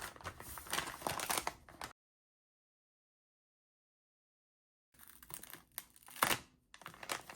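Package wrapping around an iPhone XS crinkles and tears in short close bursts, with a long silent gap between the two bursts.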